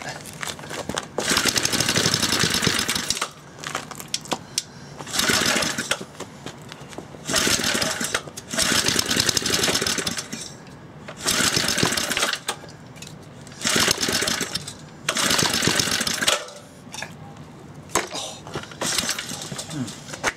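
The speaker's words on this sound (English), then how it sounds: "It's like it's backfiring, it's weird." A small engine with a JB Weld-repaired scored cylinder runs in loud, rough bursts that surge and drop repeatedly, sputtering and popping as it backfires, with brief quieter gaps between runs.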